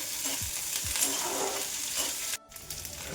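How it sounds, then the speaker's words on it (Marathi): Spices and chickpeas roasting with onion and coriander in a pan for a Nashik black masala mutton curry, a loud steady close sizzle with stirring scrapes that cuts off abruptly near the end. "आता हे पण छान सगळं साहित्य भाजून घ्यायचं आहे कांद्यासोबत"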